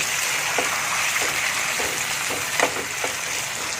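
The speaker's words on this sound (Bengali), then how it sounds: "এটাকে আমি ভালো করে তেলের মধ্যেই কষে নেব" Chicken sautéed in spiced oil fries with a soft, steady sizzle, punctuated by intermittent stirring scrapes and light taps of the spoon, close and moderately loud with no one talking.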